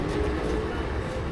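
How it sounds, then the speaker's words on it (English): A local train from Takamatsu Station, Japan, rumbles steadily with a continuous low roar and faint rattling, heard from inside the carriage. "we are taking a local train from Takamatsu Station"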